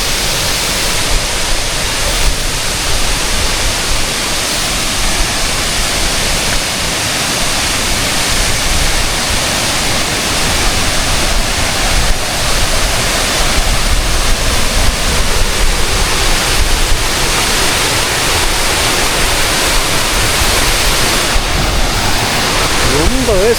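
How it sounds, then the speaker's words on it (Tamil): Seven Wells waterfall in Langkawi, Malaysia roars as a steady, loud broadband rush of falling water, continuous throughout with no break. "இந்த வாட்டர் ஃபாலு ரொம்ப செம்மையாக இருக்குது"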